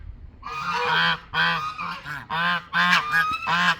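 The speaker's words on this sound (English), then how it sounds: "Is there a reason for all this noise? Are they not beautiful birds?" Geese honk loudly and close by in a series of about six harsh calls with short gaps between them, with no talking over them.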